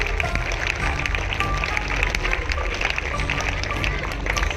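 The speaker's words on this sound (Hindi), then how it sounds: "जोरदार तालियां बजाइए।" An audience applauds in a hall, a steady, dense wash of many hands clapping at an even loudness from start to finish.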